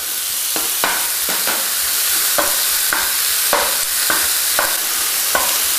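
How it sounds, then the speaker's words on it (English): Strips of top sirloin beef searing in a hot pan, a loud continuous sizzle with about a dozen evenly spaced scraping stirs across the pan, with no voice. "So in one quick motion here, spread it out in the pan, give it that quick chance to sear off."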